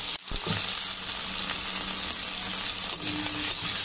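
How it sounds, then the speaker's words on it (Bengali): Cumin seeds and potatoes frying in hot oil in a pan, making a steady close sizzle with soft crackles and a brief burst of spattering near the start. "জিরেটা একটু ভাজা ভাজা হয়ে গেলে এখানে আলুগুলো দিয়ে দেবো"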